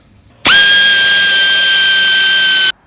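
A power tool tightens rocker cover bolts on a Ford Mondeo Mk5 2-litre diesel engine, making a single loud, steady, close whine with hiss that lasts about two seconds and then stops abruptly.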